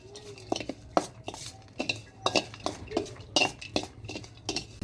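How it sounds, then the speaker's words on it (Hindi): Spice mix of salt, chilli, coriander powder, garam masala and whole coriander seeds being stirred in a bowl for bread pakora, a spoon scraping and clinking against the bowl in repeated close, sharp strokes with no talk. "तो अभी इन सारी चीज़ों को मिक्स करेंगे हम।"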